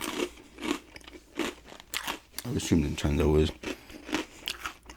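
Pretzels crunched and bitten close to the mic in bursts, heaviest around the middle, while a person keeps talking casually throughout.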